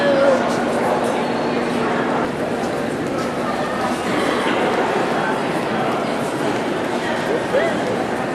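Several dogs bark and yip at a dog show, their sharp calls breaking out intermittently through a busy hall, mixed under nearby people talking.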